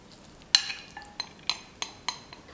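Chopped chives and oil are stirred together in a bowl, giving a series of about seven light, crisp clinks and scrapes at a steady pace. The sound is faint and close, with no talking.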